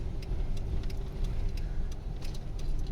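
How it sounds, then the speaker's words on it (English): A car with its rear end dragging along the road behind a truck, an El Camino loaded full of junk and throwing up sparks, gives a steady low rumbling road noise with faint intermittent metallic ticks over continuous vehicle drone. "This dude is dragging the back of his car."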